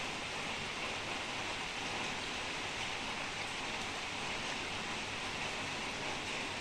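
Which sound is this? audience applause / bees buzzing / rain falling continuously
rain falling continuously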